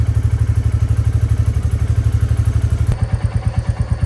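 A motorcycle engine runs after a cold start on a morning, a loud close thumping idle with a fast, even pulse that shifts to a slightly different, sharper beat partway through.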